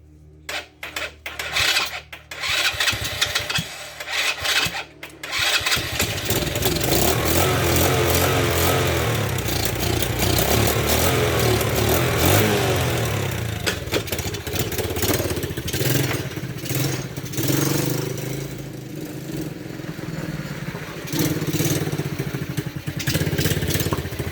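A 125cc ATV engine, freshly fixed after carburetor repair, sputters through a few uneven starts and then runs continuously with a loud, rough, rattling putter, sometimes rising and falling in revs.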